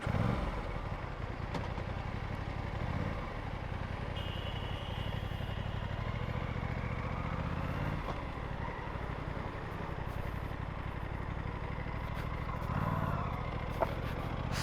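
Aprilia RS457 sports bike engine running steadily, a continuous low mechanical drone with light clatter that stays even and close throughout, with no voices.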